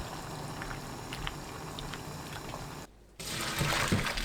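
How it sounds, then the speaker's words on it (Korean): Seaweed blanches in a pot of boiling water with a half spoonful of vinegar, a steady bubbling simmer that briefly cuts out, then returns louder with splashing as the seaweed goes in. "끓는 물에 식초 반큰술, 미역 넣고 10초 데쳐내세요."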